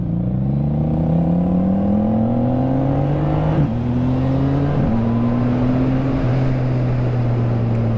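A CFMOTO 675NK motorcycle fitted with a full-system exhaust accelerates, its engine note climbing in pitch through several quick gear changes. The sound is steady and close, with no talk.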